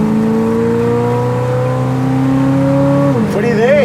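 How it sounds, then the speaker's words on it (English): A 1957 Chevrolet Bel Air V8 with a 4-barrel carburetor pulls hard through the gears, a loud, close engine drone rising steadily in pitch, then dropping sharply at a shift before climbing again. "That sound of that motor and that 4-barrel opening up"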